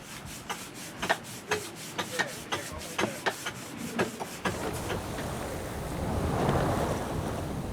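Boat sailing the open Pacific between Tokelau atolls: a steady series of rhythmic creaks and knocks from the hull or rigging over wind and surf, which then give way to a broad rush of waves and wind.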